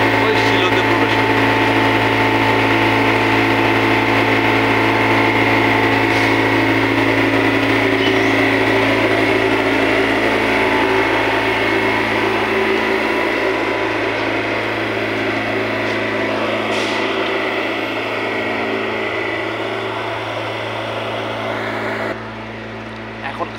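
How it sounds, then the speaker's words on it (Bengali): A cement bulker truck unloads cement through a thick pipe up into a silo, producing a loud, continuous mechanical roar with a steady droning hum that holds for over twenty seconds before cutting off near the end. "এখন খালি হচ্ছে সিমেন্ট, সেই জন্য প্রচণ্ড সাউন্ড হচ্ছে।"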